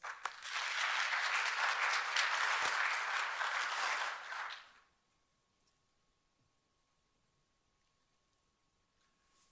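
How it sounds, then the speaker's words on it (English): A conference audience at a technology festival in Singapore claps loudly and continuously for about four and a half seconds, then the applause stops abruptly, leaving near silence with a faint steady hum. "Let us all welcome him with a big round of applause."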